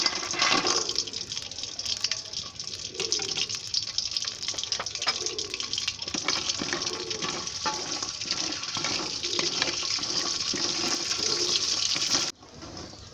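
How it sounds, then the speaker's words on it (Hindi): Wadiyan fry in about a cup of ghee, giving a dense, continuous bubbling sizzle that holds steady at moderate volume for about twelve seconds before cutting off, with no talk. "1 पाव बड़ियाँ जो हैं हम घी में फ्राई कर लेते हैं"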